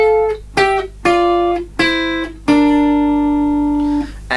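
Lead guitar part, a handful of clean picked notes and chords, each ringing out before the next, ending on a long sustained one, played alone and up close.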